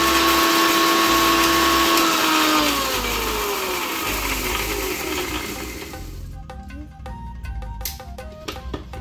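A mixer grinder churns bonda batter with salt, a loud steady motor whine that winds down in pitch and cuts out about two-thirds through, leaving a few faint clicks and knocks.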